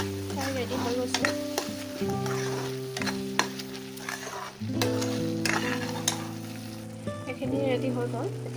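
Puréed spinach with masala fries in a pan for palak paneer, a close, constant sizzle broken by repeated scraping strokes of a spoon against the metal as it is stirred.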